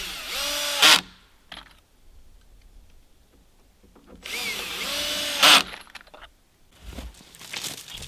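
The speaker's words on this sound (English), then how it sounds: "Just a matter of pretty much screwing everything together." A power drill drives screws into the wooden walls of an outhouse being built in snowy woods, with two loud whirring bursts separated by quiet pauses and a few clicks and knocks.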